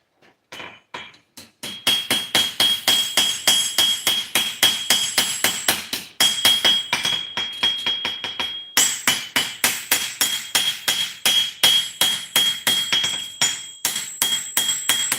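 Steel being forged by hand, a hammer striking hot metal in a steady rapid rhythm of sharp ringing blows, dozens in a row, loud and close with a bright metallic ring between strikes.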